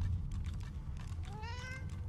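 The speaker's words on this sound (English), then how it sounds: "That meow sounds pretty close." A cat meows several times in rising, drawn-out calls over a constant low rumble of background noise, in the video game Divinity: Original Sin 2.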